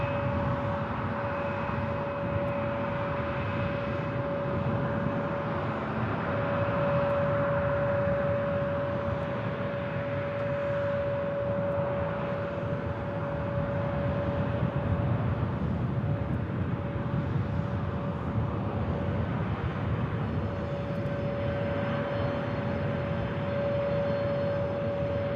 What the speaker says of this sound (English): Love the sound of those old A319 engines.